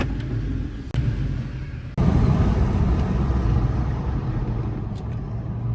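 Toyota Tacoma pickup truck with a new Wilwood big brake kit rolling out of a garage, a steady low engine rumble and road noise from inside the cab, loud and continuous with a couple of brief dips.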